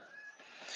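A kitten gives a single short, thin meow that lasts under a second, faint and close, with no other sounds around it.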